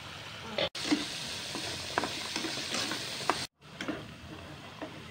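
Sautéed spice paste is poured onto meat for soto Betawi, producing a continuous close sizzle with stirring scrapes and a few clinks, broken by two brief silent gaps.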